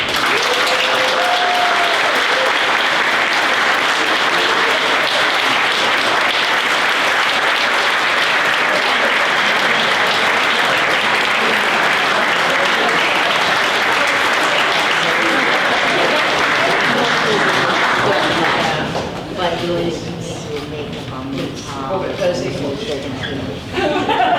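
Audience at a chamber of commerce award ceremony gives sustained, loud applause with scattered chuckles, and the clapping fades near the end as a voice begins speaking.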